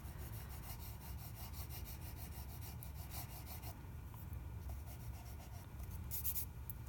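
Graphite pencil shading on paper, a soft, continuous scratchy rasp of strokes going back and forth in a steady rhythm, close and quiet.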